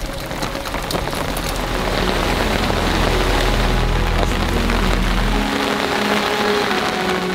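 Heavy rain drums steadily on a carp-fishing shelter beside a large lake, a dense, loud, continuous patter close overhead with no voices for the whole stretch.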